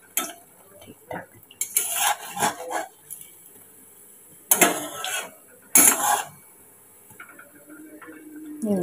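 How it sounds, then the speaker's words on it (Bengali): Fried malpua dropped into jaggery syrup, a few soft wet plops and clinks of utensils against a pot, separated by quiet gaps, close by and moderately loud. "এগুলো সব গুড়ের রসে ফেলছি"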